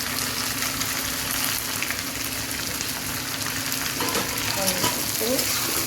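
Chopped carrot, beans, tomato and cabbage fry lightly in a pan for a vegetarian chowmein, giving a steady close sizzle with a few stirring scrapes near the end.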